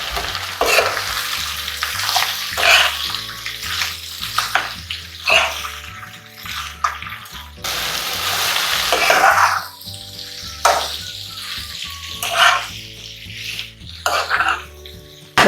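A spoon stirs peanut potato khichdi, a fasting dish, in a pan, scraping and sizzling in repeated bursts over continuous background music.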